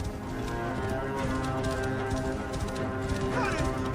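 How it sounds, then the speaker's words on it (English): A horse's hooves clip-clop steadily in the video game Assassin's Creed Origins, an even, continuous trot set within busy ambient game sound. "This must be Mered's horse"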